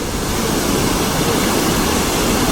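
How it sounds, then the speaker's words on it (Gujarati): Steady, dense roar of a waterfall near the Someshwar temple in Nashik, loud and continuous with no breaks, filling the whole clip. "આ ધોધ છે."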